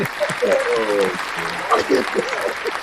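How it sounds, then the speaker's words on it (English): A soundboard plays a round-of-applause effect during a podcast while the hosts keep talking over it; the recorded clapping runs continuously beneath the voices for a few seconds. "Hit the clap soundboard"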